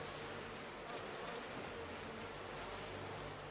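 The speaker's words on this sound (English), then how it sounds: "I go to hang out with the bees" Bees buzz in a countryside scene from the video game Kingdom Come: Deliverance II, a faint steady insect drone under a broad ambient wash with no talk.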